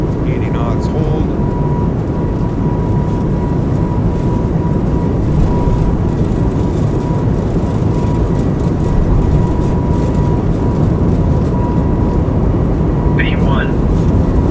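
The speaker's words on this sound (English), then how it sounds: "Takeoff power is set." Airbus A220 jet engines at takeoff power during a simulated takeoff roll in a flight simulator game, a constant loud broadband roar with a faint steady whine, while a voice talks over it.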